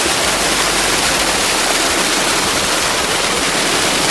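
Strong, steady rush of water pouring from a borewell pipe, a dense continuous roar of gushing flow that stays loud and unbroken throughout, with no voices.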